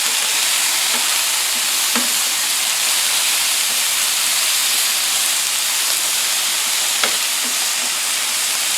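Cabbage layered over onions sizzles steadily on a Blackstone E-Series 17-inch electric tabletop griddle, a dense, even frying hiss throughout with a few faint clicks and taps, no voices.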